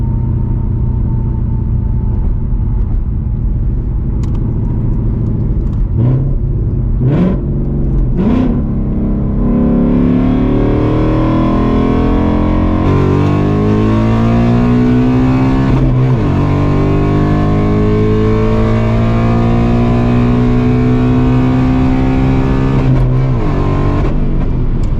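A catless S650 Mustang GT accelerating hard on the street, its loud engine climbing through rising revs with distinct gear-shift breaks, a continuous close-up roar with no talking.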